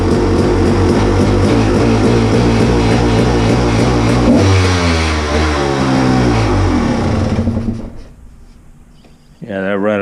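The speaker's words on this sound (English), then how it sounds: "that rattling sound is my exhaust O-rings." A motorcycle engine idles and revs with a loose, rattling exhaust from worn exhaust O-rings, loud and close, then drops away near the end as a voice briefly comes in.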